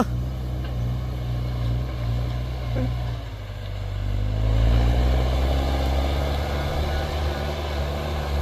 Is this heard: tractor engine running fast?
yes